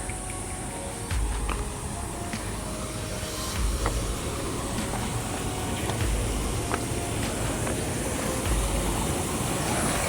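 A waterfall-fed stream flows through forest at Belpahari in Bengal, a steady broadband rush of water continuing unbroken, with occasional low thumps beneath it.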